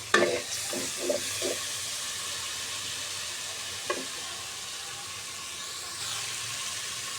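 Chilli, spices and turmeric stir-fried in a pan with cinnamon and cardamom for khichuri, a soft steady sizzle with a few scraping stirs near the start, close and without talk.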